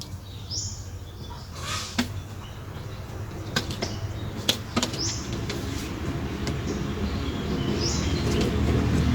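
Pigeons in a loft flapping their wings in short sharp bursts, with scattered chirps and coos, close by against a steady background.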